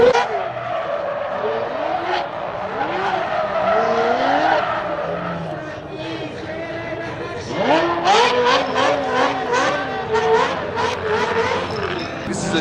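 A drift car with a gated shifter skids and squeals its tires in repeated loud slides, the engine revving between them, while people chatter nearby.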